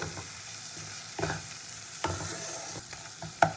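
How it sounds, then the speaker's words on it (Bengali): A spice paste with slit green chillies is sautéed in a pan for a katla fish kasundi curry. Soft sizzling runs under intermittent scraping stir strokes, with a sharp metallic clink near the end. "এবার মশলাকে খুব ভালো করে কষিয়ে নেবো।"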